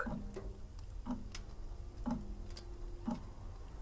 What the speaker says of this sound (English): I could hear the solemn tick of a clock.